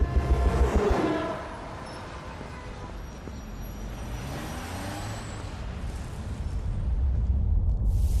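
A New York subway train rumbles along with a low, continuous roar and a hiss of brakes near the start, steady and fairly loud throughout.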